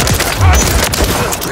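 Loud, close bursts of rapid automatic gunfire in a military shooter video game, rattling continuously with heavy low booms.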